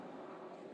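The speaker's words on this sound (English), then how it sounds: "I have a helicopter flying over right now with FLIR." A police helicopter fitted with a FLIR camera flies overhead during a late-night search for a missing girl in Lorain, giving a steady, unbroken engine and rotor drone that stays loud throughout.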